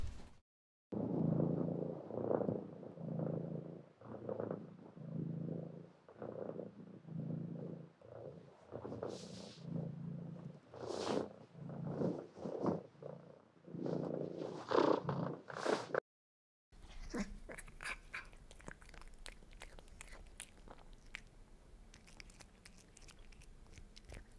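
A cat purrs close up in a steady, rhythmic rumble with pulsing breaths and a few crunchy, chewing-like sounds, then cuts to quieter background noise.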